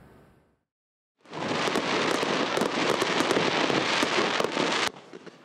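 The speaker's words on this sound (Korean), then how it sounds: "주말 저녁 유등축제장 밖에서 불꽃놀이를 관람하는 진주 시민들" Dense crackling bursts of fireworks at a lantern festival in Jinju erupt after a brief quiet, a continuous loud popping barrage from a distance.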